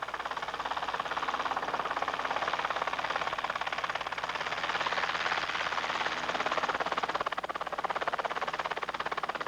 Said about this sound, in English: In this case, it's the Rotorway Executive Helicopter.